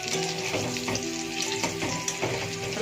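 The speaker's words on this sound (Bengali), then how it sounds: "আলুটা ভেজে নিচ্ছি আর এখানে পেঁয়াজ ভেজে নিচ্ছি" Potatoes and onions fry in an old, decades-used karai, giving a steady close sizzle with faint stirring scrapes and no voices.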